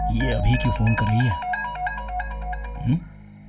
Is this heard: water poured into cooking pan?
no